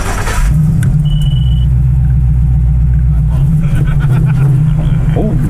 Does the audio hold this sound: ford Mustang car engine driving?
yes